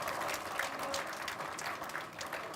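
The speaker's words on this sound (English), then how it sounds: "give him a hand of applause" Audience applause at an international university ethics seminar, a steady, moderately quiet wash of clapping that runs evenly through the whole stretch with no voices over it.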